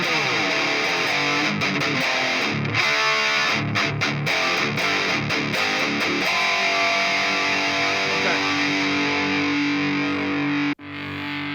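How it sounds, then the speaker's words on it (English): Dry, overdriven electric guitar through a modeled amplifier, without reverb or delay, plays riffs and sustained chords loudly, then the playing cuts off abruptly near the end. "take out the reverb, take out the delay so we can hear more of the amplifier"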